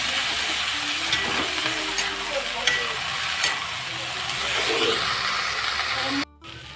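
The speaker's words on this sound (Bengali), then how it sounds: "এখন আমি সেদ্ধ করে নেওয়া বুটটা দিয়ে দিলাম।" Boiled chickpeas hit a pan of fried onions for ghugni and sizzle with a steady frying hiss, close up, with light stirring scrapes and a few clinks.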